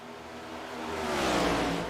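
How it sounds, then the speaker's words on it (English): Race cars pass by on the track at Pocono, a faint engine roar that swells and peaks before easing slightly, heard from a distance with no talk. "them cars are loud when they go by"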